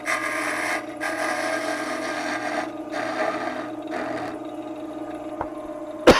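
Wood turning on a lathe with a peeling cut on a hummingbird house gives a steady, close scraping and rubbing hum that holds throughout, with a brief sharp knock near the end.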